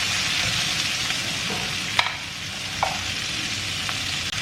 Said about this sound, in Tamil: வெங்காயமும் பச்சை மிளகாயும் ஆட் பண்ணி ஒரு 2 மினிட்ஸ் வந்து நம்ம இதை சாட்டே பண்ணிக்கலாம்